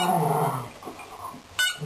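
A rescue dog growls in low, rumbling bursts through the first half, then a few softer growls and whimpers follow, ending in a brief sharper noise; no one talks.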